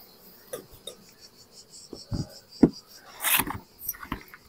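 Honeybees buzz around a newly made swarm at a hive, a thin insect hum broken by scattered knocks and short bursts of louder buzzing close by.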